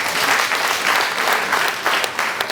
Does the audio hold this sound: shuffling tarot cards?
no